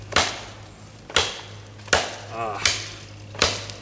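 An Ontario Spec-6 tomahawk chopping into wood, with five heavy, evenly spaced thwacks about three-quarters of a second apart, each landing loud and close.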